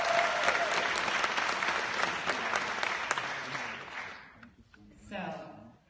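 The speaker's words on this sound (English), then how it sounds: "Can we have a round of applause for them?" A summit audience at a Tron event gives a sustained round of applause that dies away after about four seconds, and then a voice begins talking.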